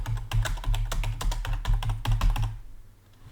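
Rapid typing on a computer keyboard, a close, dense run of key clicks that continues steadily for a couple of seconds and then stops abruptly, leaving near silence.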